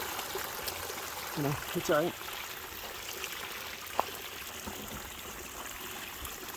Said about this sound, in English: it's all landing on that lid and slowly spilling off, because it's dripping off of the bucket flare